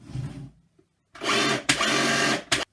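A Milwaukee M18 cordless battery hedge trimmer runs in two loud, close bursts of buzzing, chattering blade motor, separated by a brief restart and cut off abruptly.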